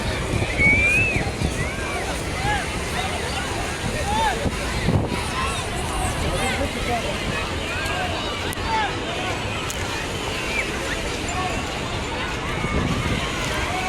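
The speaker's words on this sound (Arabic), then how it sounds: "صوت بقى المصيف وصوت البحر وصوت الناس في البحر واللعب والصريخ" Broad wash of surf and distant beach crowd noise at an Alexandria beach in summer, voices and shouts blurred together with wind, continuous throughout.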